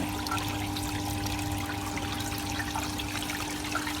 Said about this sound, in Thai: น้ำตก น้ำตกหลังบ้านการดีไซน์ออกแบบนะครับ เครื่องกรอง